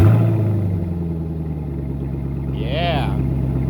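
A 2010 Camaro SS V8 fitted with an MBRP muffler-delete kit rumbles close and loud at a steady idle, its deep exhaust drone holding evenly throughout.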